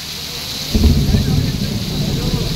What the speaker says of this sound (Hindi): ये देखो बादलों की गड़गड़ाहट सुनिए आप।